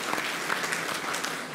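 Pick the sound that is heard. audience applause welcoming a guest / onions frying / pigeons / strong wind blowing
audience applause welcoming a guest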